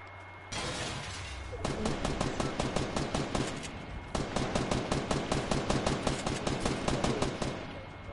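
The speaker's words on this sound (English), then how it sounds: "Who are you shooting, bro?" Rapid automatic gunfire in a video game, two long sustained bursts of evenly spaced shots separated by a brief pause, loud and close with a steady hum underneath.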